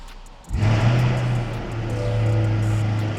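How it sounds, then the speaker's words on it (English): A Chevrolet Corvette C8 engine cranks and catches with a sudden loud roar, then settles into a steady, deep, close idle that swells slightly toward the end. "So let's go ahead and fire the car up"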